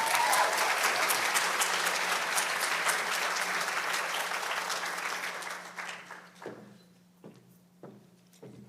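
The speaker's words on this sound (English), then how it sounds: "Let's give her a round of applause." Audience applause at an Asian Pacific Islander and South Asian American graduation ceremony, loud dense clapping that gradually thins out into a few scattered final claps and a soft background hum.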